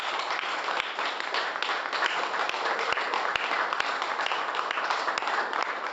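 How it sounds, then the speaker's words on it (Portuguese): Church congregation applauding in sustained, dense clapping with sharp individual claps poking through, steady and fairly distant throughout. "Dê um aplauso ao Senhor Jesus."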